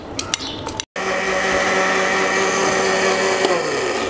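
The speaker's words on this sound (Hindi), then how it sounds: "अब हमने इसको ग्राइंडर में पीस देना है" An electric grinder whirs steadily as it grinds ingredients for Peshawari kheer, a loud continuous motor drone after a brief stop, with no talking.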